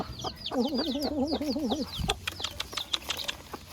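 A hen that has become partly paralysed clucks close by in a wavering, repeated cackle lasting over a second, followed by softer scattered clucks and rustling.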